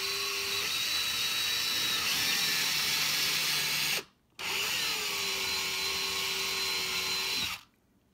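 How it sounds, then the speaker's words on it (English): An electric drill bores a hole into soft shelf material for a keyhole slot hanger, running in two long steady whining bursts close to the microphone, each ending with a brief stop. "So as I drill down, I'll know when to stop."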